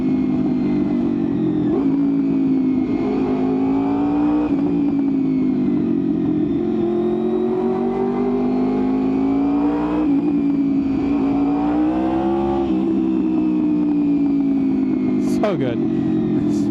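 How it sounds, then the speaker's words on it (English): Honda VFR800fi motorcycle engine running with the fuel-injection warning light on, a steady close, loud mid-pitched drone with slight rises and falls in revs throughout, heard from the rider's position. "I must say the bike sounds so good when the FI light is on."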